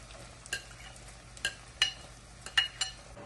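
Onion is sautéed in a pan with garlic, ginger and chili, a soft sizzle under a handful of scraping stirs with a spoon, quiet and close.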